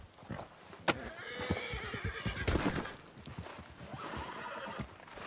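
A horse in Red Dead Redemption 2 whinnies twice amid hoof clip-clops and shuffling, fairly close but quiet, with no talk.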